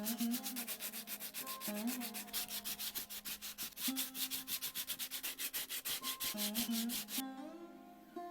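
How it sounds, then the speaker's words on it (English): Sandpaper rubs in quick, steady back-and-forth strokes over the metal pins of an old, rusty axe's handle, loud and close, stopping abruptly near the end. "I had to clean them with sandpaper and repaint the handle."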